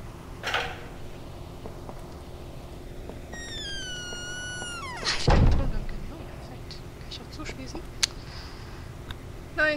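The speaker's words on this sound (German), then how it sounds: "Die Türe machen wir schon mal auf." A door swings open in the horror game White Day, with a rising creak followed by a heavy thud midway through, set against faint game ambience and a few scattered clicks.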